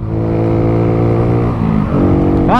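A motorcycle engine hums loud and close at steady revs, then drops in pitch as the rider downshifts, and a quick throttle blip sends the revs sweeping sharply upward at the end.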